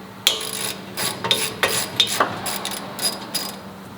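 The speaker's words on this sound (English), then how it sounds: "just get a regular wrench and socket and just loosen this bolt" A ratchet wrench and socket clicks as it loosens a bolt on the rear traction arm of a Nissan 370Z, heard as a close series of sharp, uneven metallic ratcheting clicks with no talking.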